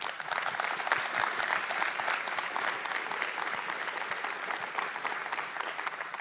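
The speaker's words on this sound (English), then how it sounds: "Please give them all a big round of applause." An audience at a conference panel discussion bursts into sustained, even clapping. The applause is dense and continuous, holds a steady level, and carries no voices.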